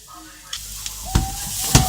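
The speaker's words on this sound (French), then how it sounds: "On remue de temps en temps." Leftover rice fries in a wok over medium heat, giving a steady close sizzle broken by a few sharp scrapes and knocks as it is stirred now and then.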